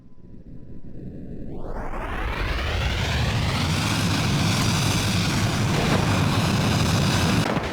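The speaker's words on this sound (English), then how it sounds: "B2 Spirit Bomber" A B-2 Spirit bomber in BeamNG Drive roars in as a rising engine whine sweeps upward and settles into a loud, steady jet drone that holds to the end, with no voices.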